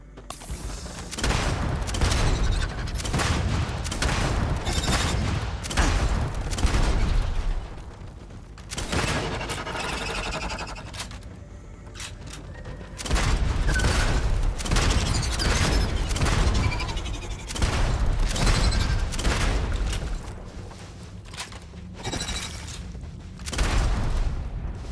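Grenade explosions burst repeatedly in the video game Starfield, a dense run of loud, booming blasts and crackling gunfire that continue back to back through most of the stretch, with a brief quieter lull in the middle.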